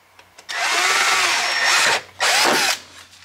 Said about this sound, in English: And then I'm going to hold it in place and drill the other hole.